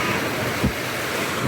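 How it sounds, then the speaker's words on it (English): Ocean waves wash against a beach wall at Playacar in Playa del Carmen, Mexico, as a continuous roar with gusty wind noise on the microphone and one brief thump partway through. "waves crashing into the wall."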